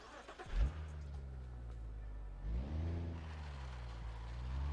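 A damaged car engine in the driving game BeamNG Drive, turning over and revving in two low, rough surges with a steady idling drone between them, fairly quiet and without any talk over it.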